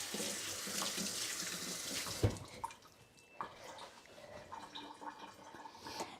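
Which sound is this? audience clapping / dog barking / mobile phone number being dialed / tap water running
tap water running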